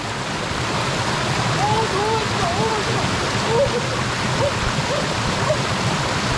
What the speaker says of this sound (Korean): 와, 무대치기 폭포.